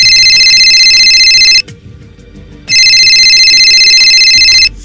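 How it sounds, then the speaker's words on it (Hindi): A phone rings loudly in two long electronic bursts separated by a short pause. "एक शाम मेरा फोन बजा।"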